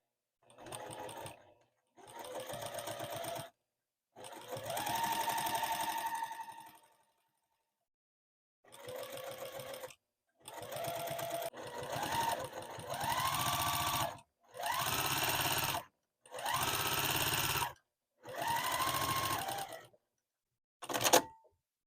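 A sewing machine quilts an oven mitt in repeated bursts of rapid stitching, each lasting one to two seconds and separated by short pauses, loud and close.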